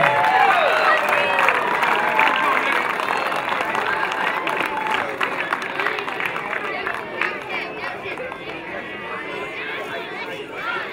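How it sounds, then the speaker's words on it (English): Crowd applause for 24 baseball teams at a league's 2013 opening day, broad clapping and cheering mixed with chatter and crowd noise that slowly eases over about ten seconds. "how about a big round of applause for all of our 24 teams for the 2013 season in the LBA"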